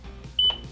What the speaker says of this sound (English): Press and hold the setup button until you hear a beep.